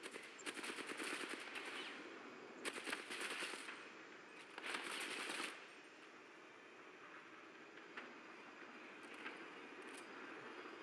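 Automatic gunfire in Titanfall 2 sounds in several sharp, rattling bursts of rapid shots, fairly close, separated by brief pauses over a steady background hum, with a few isolated fainter shots afterward.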